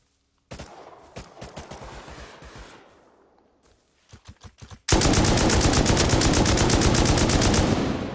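Gunfire in the online survival game Rust Console: scattered single shots and short bursts, then a sustained rapid automatic volley, loud and close, that fills the last few seconds.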